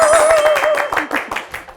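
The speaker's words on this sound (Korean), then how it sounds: "박수 소리 너무 작았어요. 한 번 더." Studio audience clapping on a Korean talk show, a short burst of close, sharp claps from a small group, with a sustained tone beneath that fades as the clapping thins out.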